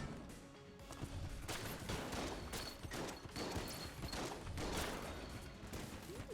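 Rapid, dense gunfire from many bullets striking targets in the roguelike shooter Enter the Gungeon, a relentless stream of crackling shots and impacts kept at a modest level throughout.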